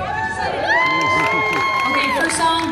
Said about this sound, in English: Everybody for song A, give a nice cheer